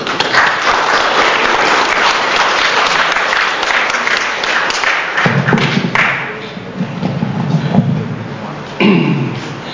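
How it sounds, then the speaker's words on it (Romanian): Audience applause for a departing pastor at a Romanian church farewell gathering, a loud dense ovation that thins midway, with thumping and a few voices breaking through near the end. "vă rog să-l aplaudăm"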